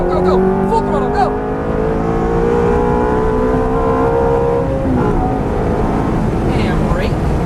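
A Ferrari F430 at full throttle on a track, its engine roaring loud and close, with the pitch climbing steadily through the rev range and a whine riding on top.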